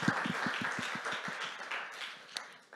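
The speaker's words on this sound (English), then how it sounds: "Round of applause." A small group clapping at the close of a music-industry masterclass session, starting with brisk regular claps that loosen into scattered, quieter applause, fairly close and without talk.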